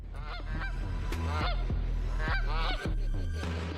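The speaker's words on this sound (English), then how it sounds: "The geese honking." Loud geese honking in a rapid, overlapping series of harsh calls, several birds close together, a sound effect with no talking.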